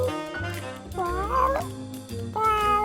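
A cartoon cat meows a few times in a short, lively scene, with bright tonal cries rising and falling over a busy music-like background.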